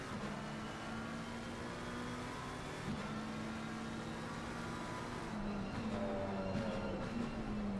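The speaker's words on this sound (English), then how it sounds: "ride on board and listen to the sultry sounds of the McLaren 720S." McLaren 720S race car engine heard on board in Assetto Corsa Competizione at Imola, a steady loud drone with shifting harmonic tones through the whole stretch, faint gear-change blips near the end.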